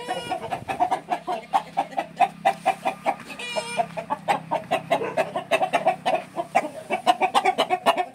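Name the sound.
Koovathadi sengaruppu breeder rooster, a fighting cock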